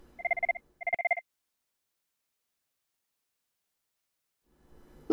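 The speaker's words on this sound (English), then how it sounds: "Here we have an incoming call with an international calling party number." An office desk telephone rings for an incoming international call, giving two short electronic double-burst rings in quick succession followed by silence.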